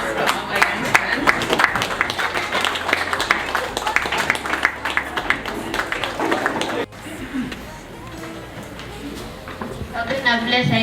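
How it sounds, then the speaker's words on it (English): Parents in a school audience clap for a children's performance, a dense patter of hand claps mixed with talking voices for about seven seconds before it thins out. "let's clap for our youngsters"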